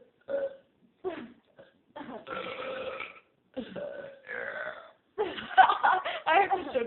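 Several people let out burps one after another in a burping contest, a string of loud, close, croaking belches with short gaps between them, growing longer and rougher toward the end.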